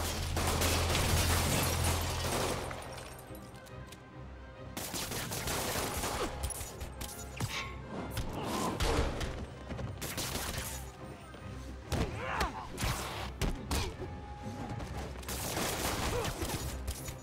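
Thugs fire guns in a street fight in Marvel's Spider-Man, with dense, rapid bursts of gunshots and rattling automatic fire going on for many seconds, mixed with thuds and brief shouts.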